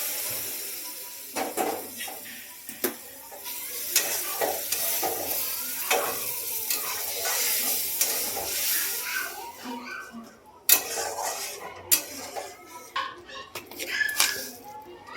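Hot water poured onto fried semolina in a pan sets off a loud, crackling sizzle with bursts of hissing and stirring scrapes that rise and fall, while someone talks throughout.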